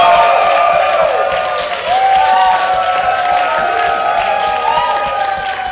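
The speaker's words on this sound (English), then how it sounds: "I'm sure people will cheer for you now, Ryan" A school committee meeting audience cheers and claps for a grade 11 student's acting award, a dense, loud wash of crowd noise with scattered whoops and whistles that stays steady for several seconds.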